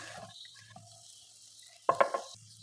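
Three finely chopped onions with cardamom and cloves sautéing in sunflower oil for paneer butter masala, a faint low sizzle broken by a quick cluster of spatula scrapes against the pan near the end.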